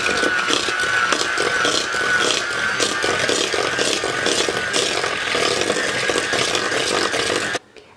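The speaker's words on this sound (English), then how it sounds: "Now I'll mix 1 egg at a time." A mixer beats an egg into creamed butter and sugar, a steady loud mechanical whirring with a rattling, ratchet-like texture that runs for about seven and a half seconds and then cuts off abruptly.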